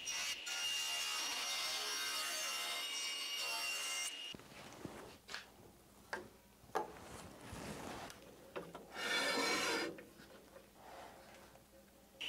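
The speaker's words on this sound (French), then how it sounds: "je découpe le hêtre qui va servir à faire les lames ressort. D'abord à 25 mm puisque la machine est réglée." A power saw rips beech wood into strips on a preset machine, loud and continuous for about four seconds, then goes quiet with scattered knocks and handling of the pieces and another brief burst of cutting.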